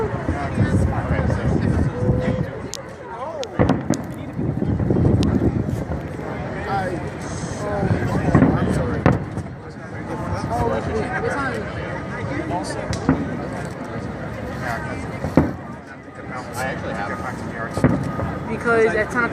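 Fireworks display at AC in 2014, with booms and crackles heard from a distance in an open outdoor setting, sounding steadily under frequent crowd chatter and nearby voices talking throughout.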